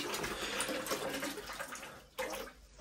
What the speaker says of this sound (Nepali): यो टोइलेटमा पानी अफ गर्नु।